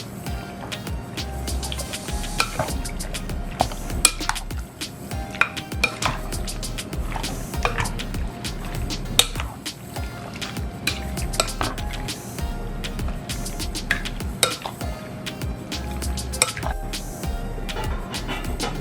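Pork belly pieces are mixed by hand with salt and geera in a bowl, giving wet squishing, dripping and soft clinks against the dish, irregular and close, with no talking.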